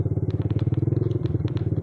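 A motorcycle engine runs at idle with a steady, rapid low putter and scattered light clicks and clatter, close by at a gas station stop for refueling.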